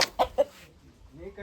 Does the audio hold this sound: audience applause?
no